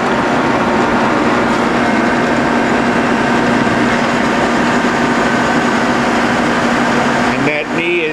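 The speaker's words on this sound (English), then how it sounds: "that knee is going up rapid traverse, which you know the machine is running well when that happens" The knee of a rebuilt Cincinnati No. 5 dual power vertical milling machine rises on rapid traverse with a loud, steady motor whine and mechanical hum that ends abruptly near the close.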